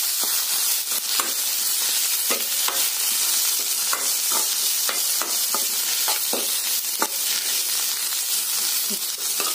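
Onion, ginger, green chili, garlic and mint sautéing in a pan, a steady loud sizzle and hiss with frequent scraping stirs and clicks of a spatula throughout, no voices.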